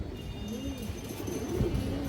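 A male Bagha pigeon, a high-flyer breed, coos in soft, low rolling calls over a faint background hiss, close but quiet.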